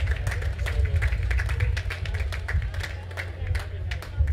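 Audience applause at a 40th anniversary concert, scattered individual claps ringing through the hall over a low rumble, moderately loud and continuous.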